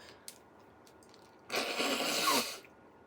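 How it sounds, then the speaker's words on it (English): A single forceful nose blow lasting about a second, close by, after a quiet pause with a faint tap. "I gotta blow my nose."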